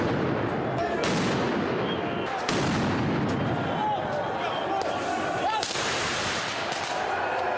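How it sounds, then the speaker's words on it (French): Firework mortars fired at police during a street riot, with several loud bursts at irregular intervals amid crowd noise while a voice narrates over it. "Les forces de l'ordre sont très vite la cible de tirs de mortier d'artifice."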